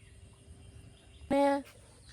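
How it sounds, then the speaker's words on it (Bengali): A goat in a Bangladeshi village gives one short, fairly loud bleat that stands out from an otherwise quiet outdoor morning background. "কনে উঠছে ছাগল"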